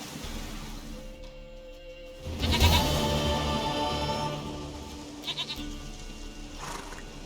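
A goat in The Witcher 3: Wild Hunt bleats in a drawn-out, wavering cry over steady game ambience.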